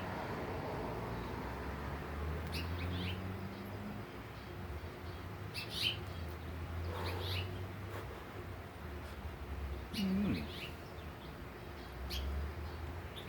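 Small finches call back and forth outdoors in a neighborhood with trees: faint, scattered high chirps over a steady low background hum, with a slightly louder call near the end.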